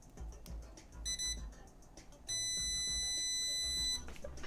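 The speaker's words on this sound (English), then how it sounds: "if I touch this to this, it should beep" A multimeter's continuity beeper sounds while wiring a Voron 2.4 3D printer: a short high tone burst, then a longer steady beep of over a second, clear and close with no talk.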